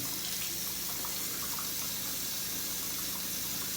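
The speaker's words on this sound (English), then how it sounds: "I'll let the water run a little bit so it warms up a little bit again." Water runs steadily from a bathroom tap into a sink, a close, continuous splashing hiss with no breaks.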